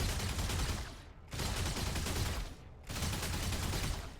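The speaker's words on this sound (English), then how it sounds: "I'm shooting at them, but it's automatic" Automatic mech gunfire in the video game Mecha BREAK, in three long sustained bursts of rapid, loud shots separated by brief pauses, with no talking.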